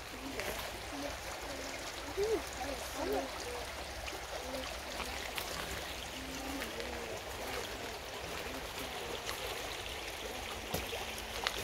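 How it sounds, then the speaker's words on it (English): Water flowing gently in a sculpture park, a faint steady trickle and burble under outdoor ambience with occasional brief voices. "Water."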